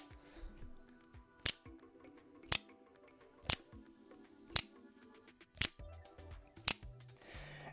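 Six sharp metallic snaps ring out at roughly one-second intervals, each a crisp spring-loaded click of a RavenCrest Tactical OTF knife blade firing out, with faint handling noise between.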